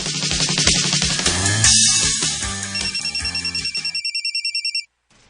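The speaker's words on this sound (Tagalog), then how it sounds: "Kasaba bayaan ng imong cellphone Buning." A cellphone ringtone plays loudly: a bright electronic melody, then a rapid repeating beeping pattern that cuts off abruptly near the end.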